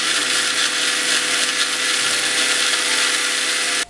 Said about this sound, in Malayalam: ഇതൊന്ന് ഞാൻ മിക്സിയിലിട്ട് അടിക്കട്ടെ